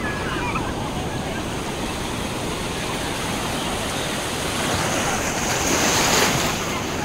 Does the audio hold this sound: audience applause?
no